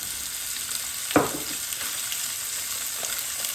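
Chicken pieces browning in a pan, a steady dense sizzle of frying throughout with one brief scrape or stir near the middle.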